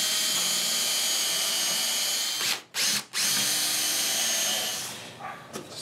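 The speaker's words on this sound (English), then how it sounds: "I'm going to start pre-drilling holes and get ready to screw this together" A power drill pre-drilling holes in wood for a wooden tool box whirs steadily in a continuous loud run, cutting out twice briefly near the middle before resuming, then winding down at the end.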